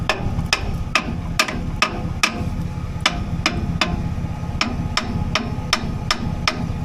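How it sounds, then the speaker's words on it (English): A hammer taps repeatedly on a throttle body component from an '08 Chevy Silverado, sharp metallic strikes at an irregular, steady rhythm over a low engine hum, close and clear. "While I was tapping on it with the hammer"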